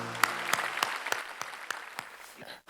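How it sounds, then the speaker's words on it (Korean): Church congregation clapping in a burst of separate, evenly spaced claps, fairly close and moderately loud, tapering off after about two and a half seconds. "하나님께 감사의 박수를 올립시다"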